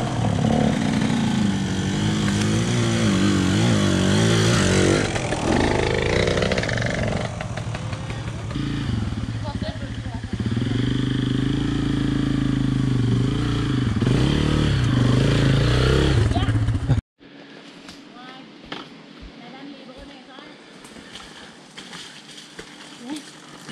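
A motorcycle engine is revved loudly and unevenly for about seventeen seconds, close by, then cuts off abruptly, leaving faint clatter and background noise.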